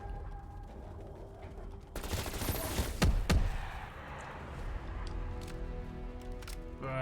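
Burst of gunfire in Call of Duty Cold War Zombies, a dense rattling volley around the middle followed by a couple of sharp single shots, loud against quieter game ambience with no talking.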